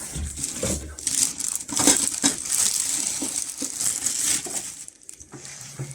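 Cardboard packaging box for a Fakir Arya dough kneading machine handled and set aside, giving close crinkling, crushing and rustling through the whole stretch with a few sharper knocks.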